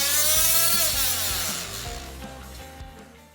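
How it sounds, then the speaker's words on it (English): Dremel oscillating tool with a round wood blade cutting hardwood flooring, a close high buzzing whine that fades over a few seconds into lighter rasping. "I settled on my Dremel oscillating tool with a round wood blade to make the straight cuts along the sides of the hexagons"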